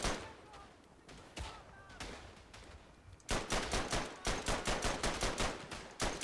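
Loud automatic machine gun fire in the World War I shooter Verdun, with rapid dense bursts that grow continuous and sustained in the second half, following sparser shots and battlefield noise.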